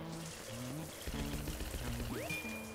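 Water pours onto a plant pot in Luigi's Mansion, a short trickling splash joined by bright game chimes and musical tones, ending with a rising whistle-like sweep.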